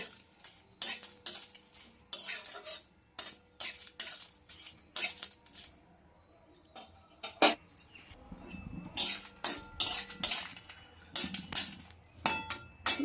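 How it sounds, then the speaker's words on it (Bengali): Dried red chillies fry in a wok over a medium gas flame for a village-style pickle, dominated by repeated sharp clinks and scrapes of a spatula against the metal, in irregular bursts with quiet gaps. "গ্যাসটাকে মিডিয়ামে রেখে লঙ্কাটাকে আগে ভেজে নেব"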